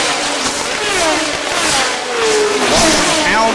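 McLaren M26 Formula 1 race car at the 1977 Dijon Grand Prix, engine howling as it passes amid other cars, with a commentator talking over the continuous racing noise.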